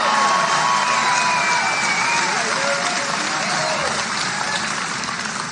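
A fired-up crowd at a JD Vance political rally in Waukesha, Wisconsin claps and cheers loudly and continuously, with whoops rising above the dense applause, which fades slightly toward the end.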